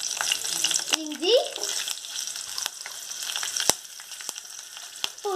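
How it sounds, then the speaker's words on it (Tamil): Green chili, ginger and garlic sautéing in hot oil, a light steady sizzle close by with a few sharp clicks of a spoon against the pan and brief faint voice-like sounds. "பச்சை மிளகாய், இஞ்சி, பூண்டை வதக்கிடலாம். எண்ணெய் சூடாயிடுச்சு."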